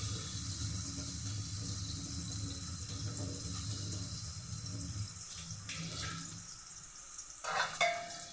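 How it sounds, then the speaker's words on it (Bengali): Chopped onion frying in a karahi gives a steady, soft sizzle throughout, with a few louder scraping stirs near the end. "আগে পেঁয়াজটা একটু ভেজে নিই।"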